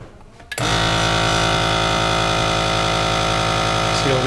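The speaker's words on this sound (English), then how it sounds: "seal the air getting sucked out." Home vacuum sealer pulling air from a bag of homemade MRE meal components, starting abruptly and then holding a loud, steady motor drone close by for several seconds.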